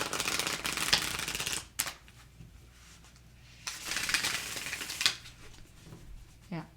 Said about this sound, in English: a little bit of a stiff shuffle, but riffles just fine